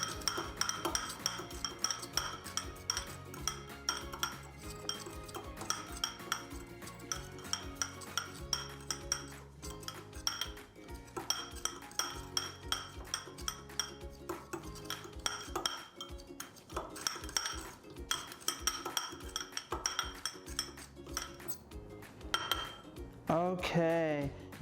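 Tofu scramble being stirred in a pan, with a utensil scraping and clinking against the metal in a busy continuous rhythm, fairly close.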